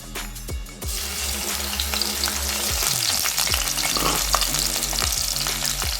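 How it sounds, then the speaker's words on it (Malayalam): Crushed ginger and garlic hit hot coconut oil for a prawn curry, starting with a brief clatter and then a loud, close, steady frying sizzle with light stirring. "എണ്ണ ചൂടായിട്ടുണ്ട് അപ്പോൾ ഇതിലേക്ക് ഞാൻ ആദ്യം ചേർത്ത് കൊടുക്കുന്നത് ഇഞ്ചി വെളുത്തുള്ളി ചതച്ചത്"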